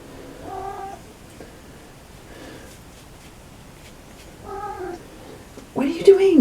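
A cat meows indoors in a few drawn-out, moderately loud calls spaced several seconds apart, with a louder burst of sound at the end. Low room noise sits underneath.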